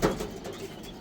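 Caged pigeons give a brief, soft, low coo, nearby and short.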